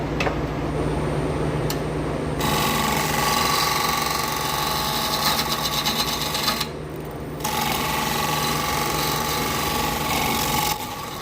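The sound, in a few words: scraping a white oak bowl on a wood lathe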